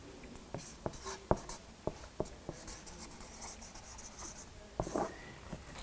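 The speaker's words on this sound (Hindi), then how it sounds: "मैं लिख देता हूँ" Pen scratching on paper by hand, a faint close series of short taps and strokes in irregular bursts with quiet pauses between them.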